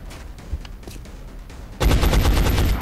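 Gunfire from shooting an alien in the video game XCOM: Enemy Unknown: after quiet background, a loud, dense burst of rapid shots erupts and continues to the end, with no talking.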